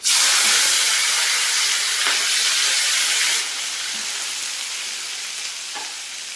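Loud, close hissing and crackling of mustard seeds, onion and curry leaves frying in hot oil, steady throughout, easing slightly halfway with a few soft stirring knocks.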